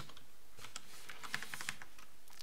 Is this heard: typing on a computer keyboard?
yes